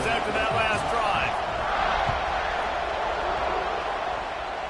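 Football stadium crowd at a home game against UGA, a broad sustained roar as the kickoff unit takes the field, steady throughout with a voice briefly audible over it.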